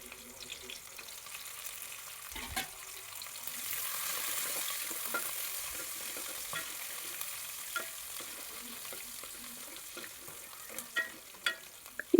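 Chopped ginger, garlic and green chillies sauté in a pan for Kerala-style pork roast: a steady close sizzle with scattered scraping stirs and a few sharper clicks toward the end, no voices.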